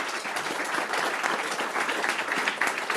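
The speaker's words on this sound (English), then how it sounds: "Please a big clap for our panelists." An audience at a conference session gives the panelists a round of applause. The clapping is broad and continuous and holds at an even level.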